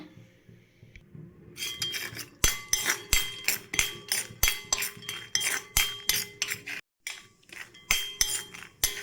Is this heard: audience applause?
no